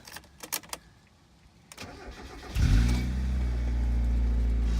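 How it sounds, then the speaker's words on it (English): A few clicks and clatters, then the engine of a 26-year-old Mazda Miata with a coolant leak cranks and catches, settling into a steady, close idle hum. "Engine still starts after 26 years."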